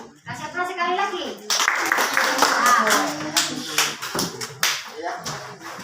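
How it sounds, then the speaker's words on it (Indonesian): A classroom breaks into applause for a group that has just presented, with brisk, dense clapping from many hands that rises after a spoken lead-in, and voices mix with the clapping. "Kasih aplaus sekali lagi."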